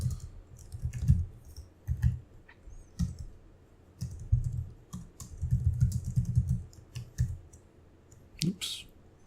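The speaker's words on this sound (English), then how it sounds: "I'm just going to type in some basic HTML here." Typing on a computer keyboard while entering basic HTML, quiet irregular bursts of key clicks up close, with a few pauses and a sharper click near the end.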